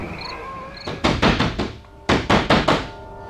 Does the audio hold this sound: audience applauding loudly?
no